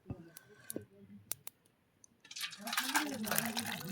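Fish curry of live mourala fish in a cumin and mustard sauce poured from a pan, heard as a dense, close, continuous wet splashing and gurgling that builds after a few scattered clicks and taps.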